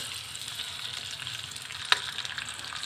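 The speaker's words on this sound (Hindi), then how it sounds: "ये देखिए प्याज हमारी ब्राउन हो रही है।" Finely chopped onion sizzles steadily in a pan as it browns, a continuous crackling hiss with one sharp tap of a utensil near the end.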